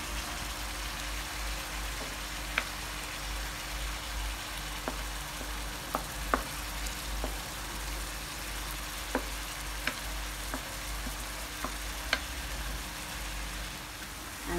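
Peppers and mixed vegetables fry in a pan for a couscous dish, giving a steady, soft broadband sizzle with occasional sharp clicks of a stirring utensil against the pan, close and unaccompanied by talk.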